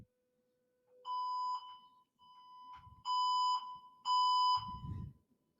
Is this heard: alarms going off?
yes